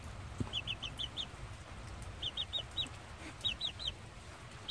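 A farm chicken near a dog and its newborn puppy clucks in short, clustered bursts of three or four sharp notes, repeated several times at moderate distance over low background noise.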